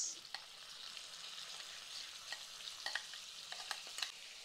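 Ground masala mixture being stirred and fried for red chilli rice, giving a steady close sizzle with scattered soft scraping and clicking as the spoon moves through the pan, with no voices.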